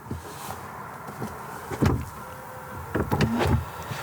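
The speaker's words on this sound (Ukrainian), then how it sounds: "Якщо натиснути просто кнопочку тут, то дверцята просто привідкриються." A 2025 Denza Z9 GT car door releasing and opening slightly at a button press, with a short electric whir and soft mechanical clunks close by, in a quiet setting.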